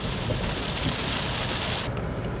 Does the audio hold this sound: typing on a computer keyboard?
no